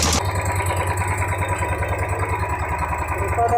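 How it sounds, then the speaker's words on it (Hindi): Royal Enfield 350 BS6 motorcycle engine idling steadily up close with a low, even rumble and a faint, rapid tick running through it, continuous and uninterrupted. "क्योंकि टिक टिक का साउंड जो है हमारा गाड़ी में बहुत तरह से आता है"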